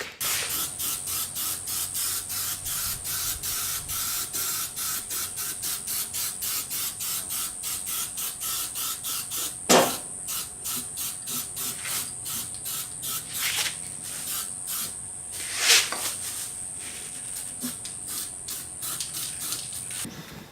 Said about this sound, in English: And now I'm going to do matte black on it in the rust-proof stuff